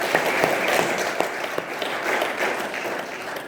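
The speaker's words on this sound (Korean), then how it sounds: "우리를 위해서 부활하신 예수 그리스도께 이 시간 영광의 박수를 한번 올려드리도록 하겠습니다" A church congregation at an Easter union worship service claps together, a brief burst of full, close applause with a few sharper individual claps standing out before it tapers off.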